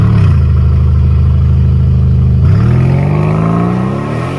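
A Mercedes GLC 63 AMG S V8 engine idles with a loud, close, deep rumble, then revs up sharply and holds a climbing roar as it accelerates.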